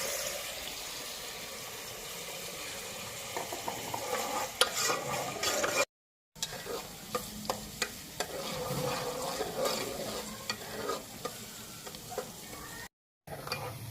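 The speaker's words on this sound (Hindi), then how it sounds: "प्याज को हमने कर लेना है हल्का सा गोल्डन।" Chopped onions frying and sizzling in oil for chicken karahi, with steady crackle and occasional stirring scrapes close by, briefly cut out twice.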